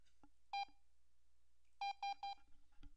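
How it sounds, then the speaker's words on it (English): Short electronic beeps from a Visual Basic computer program over near silence: one tone, then a quick run of three identical beeps, followed by a faint click. "It's just a simple beep every time you click the button."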